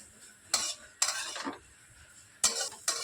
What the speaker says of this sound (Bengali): গাজরটা এবার কিছু সময় নাড়াচাড়া করে নেব